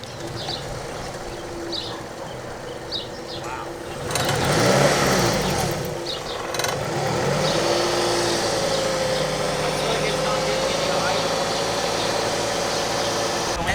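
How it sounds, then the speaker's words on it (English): Scion tC engine running rough near idle with the throttle held, a steady low engine drone with a wavering tone and a brief louder surge partway through, while a faint voice speaks. "The car sounds like it wants to literally die when it's at idle"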